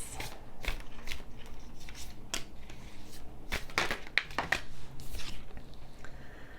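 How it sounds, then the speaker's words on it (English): Tarot cards are handled and drawn in a quiet room, giving soft scattered snaps and slides of card stock at close range with irregular spacing. "let's get a couple of tarot cards for this"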